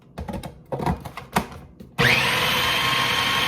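An electric mixer works cinnamon roll dough for strawberry cinnamon rolls; a few seconds of handling clatter come first, then the motor switches on and runs loud and steady up close.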